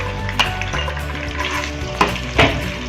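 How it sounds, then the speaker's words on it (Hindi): Ginger paste fries and sizzles in hot ghee in a pan for aloo methi, a steady close crackle with a few sharper pops and stirring scrapes, no voices. "अदरक पेस्ट शामिल करने लगी हूँ।"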